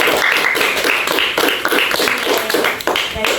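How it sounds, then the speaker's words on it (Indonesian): Audience clapping at a school health promotion session on clean and healthy living, dense, continuous hand claps close by for a few seconds, with a faint voice near the end. "Tepuk tangan dulu untuk semuanya."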